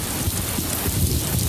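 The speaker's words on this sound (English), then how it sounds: "we felt a drop of rain. Then another one. And another." Rain falls in a dense, steady patter on surfaces, with low rumbling underneath and no voices.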